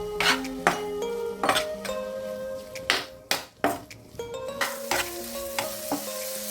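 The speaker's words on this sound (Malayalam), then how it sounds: "നമ്മുടെ മസാലയൊക്കെ നല്ലതുപോലെ ഒന്ന് വഴന്നിട്ടുണ്ട്." Masala with chopped green chilli sizzles in a pan while a spoon stirs and scrapes against the metal in repeated strokes, close and clear with no talking.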